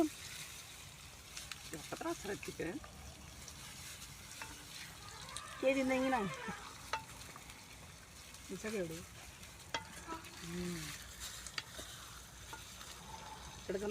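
Village-style chicken curry frying in a pot is stirred slowly with a ladle, soft sizzling and scraping scrapes coming and going at close range while people talk over it throughout.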